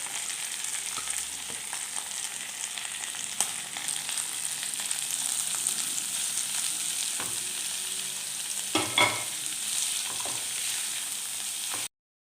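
Chopped carrots and beetroot frying in a pan for Bengali street-style vegetable chop, a steady soft sizzle with occasional scrapes and knocks of stirring, near and without talk.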